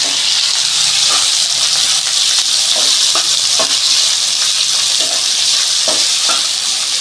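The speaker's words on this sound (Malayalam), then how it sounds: "രണ്ട് സവാള അരിഞ്ഞതാണ് ഇതിട്ടേക്കുന്ന വാടാൻ വേണ്ടി നമുക്കൊന്ന് ഇളക്കി കൊടുക്കാം" Two medium onions, chopped, frying loudly in a pan for a squid roast, a dense continuous hiss and sizzle with intermittent scraping taps of a spoon being stirred through, no voices.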